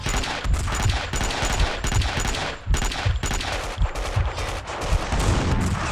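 Gunfire in the video game Max Payne 2, rapid bursts of sharp shots in quick succession, loud and close, with brief gaps between volleys and no talking.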